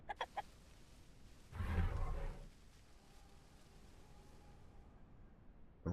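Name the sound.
chicken clucking in the video game The Isle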